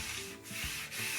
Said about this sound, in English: I'm going to use my squeegee